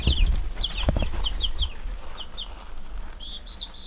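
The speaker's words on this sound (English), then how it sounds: "I've got some chicks up there" Chicks and chickens peep and call on a farm, heard from up a ladder near their roost: a run of short, high chirps in small bursts against steady low background noise.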